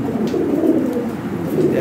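Lahore Shirazi pigeons coo in soft, low, rolling calls, steady and fairly close throughout.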